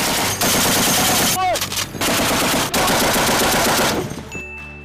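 An M2 Browning heavy machine gun fires several loud, sustained bursts with short pauses between them, and the fire cuts off abruptly near the end.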